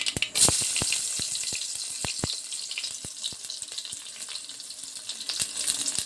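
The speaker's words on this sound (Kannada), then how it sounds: "ಈಗ ಸಾಸಿವೆ ಆ್ಯಡ್ ಮಾಡ್ಕೊತಾ ಇದ್ದೀವಿ ಈಗ ಆನಿಯನ್ ಆ್ಯಡ್ ಮಾಡ್ಕೊತಾ ಇದ್ದೀವಿ" Mustard seeds and onions fry in a pan of hot oil while a sambar is being made, giving a steady sizzle at moderate volume with scattered seed pops and small crackles and no voices.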